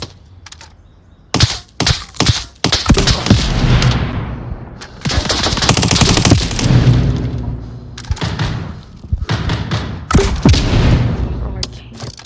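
Gunfire in the VR shooter Onward, mostly a pistol used with a shield, bursts of sharp close shots and rapid volleys repeating through the stretch with brief pauses, loud and dense over game ambience.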